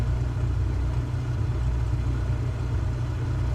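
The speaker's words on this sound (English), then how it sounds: "Tanner, I swear this engine sounds rough." A rough-running aircraft engine, apparently a Cirrus Vision Jet's, drones steadily and loudly with a deep low rumble through the whole stretch, without talk.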